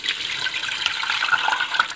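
Buttermilk drains out of fresh homemade butter through a strainer into a cooking pot, a continuous close trickle and splatter of liquid lasting about two seconds, with no voices.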